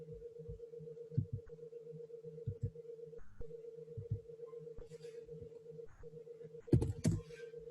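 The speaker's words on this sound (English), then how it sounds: "I was using a keyboard shortcut and had the wrong keyboard shortcut." Sparse clicks from a computer keyboard come in small bursts over a steady electrical hum. The keystrokes are faint and close by.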